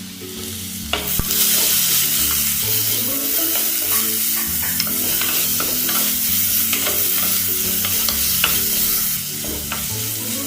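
Tomatoes and green chillies fry with onions in a pan for a fish curry, giving a loud, steady sizzle broken by repeated sharp scrapes and stirring clatter.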